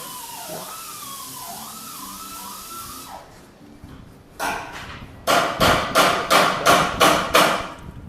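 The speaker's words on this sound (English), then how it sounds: "So this is the fab shop. This is where they do all the welding and cutting and grinding" A metal fabrication shop where welding, cutting and grinding go on, with a siren-like wavering whine first, then a few loud metallic impacts and a run of seven rapid, evenly spaced hammer blows ringing nearby.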